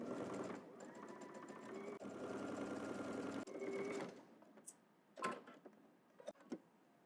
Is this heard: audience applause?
no